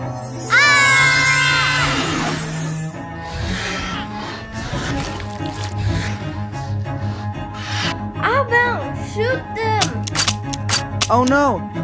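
Sci-fi dino gun blasts firing in a Jurassic World video game, several zappy shots ringing out loudly between bursts of music and game effects, with voices talking over them.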